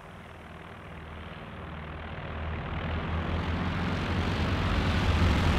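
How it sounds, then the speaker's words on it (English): An aircraft flying off in Company of Heroes 2, a droning engine roar with a low rumble that swells steadily louder over several seconds, heard alone. "Plane flying off there, bad signs."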